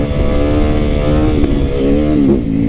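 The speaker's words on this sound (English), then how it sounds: "Busting all kinds of wheelies up in here" Motorcycle revving hard while doing wheelies on a street, a loud, close engine roar holding steady with rising and falling pitch throughout, alone without talk.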